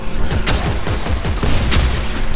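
Seeker rifle gunfire in Dead Space 3, a burst of several loud, sharp reports in quick succession with booming low-end thuds, close and dense, no talk.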